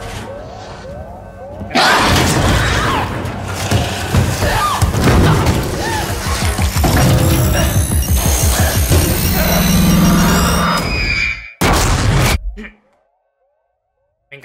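An explosion in the video game Alien: Isolation starts with a sudden loud blast, rumbles with heavy thuds and debris noise for about ten seconds, and gives a final burst before dropping into silence.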